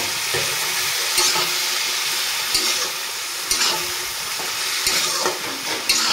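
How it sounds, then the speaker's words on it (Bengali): Spices sizzling loudly in a pan after ground coriander and cumin go in, a dense steady frying hiss punctuated every second or so by sharp scraping stirs of a spatula, with no talking. "দিয়ে সুন্দরভাবে মশলাটাকে কষিয়ে নেব।"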